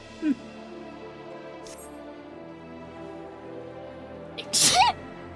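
A single sharp sneeze bursts out near the end, loud and close, after a faint brief sound at the start, over a quiet background.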